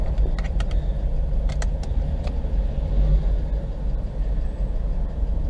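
Idling engine of a BMW X5 E53 with a suspected connecting rod pin knock, a steady close rumble with faint sharp ticks near the start and no talk.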